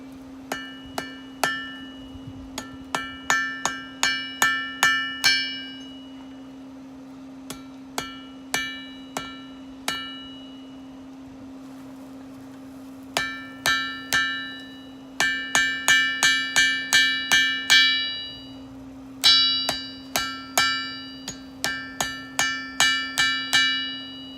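Hammer striking white-hot metal on an anvil during forge welding, with bright ringing blows in quick runs of several strikes separated by pauses and a steady hum from a forge blower beneath, close and alone.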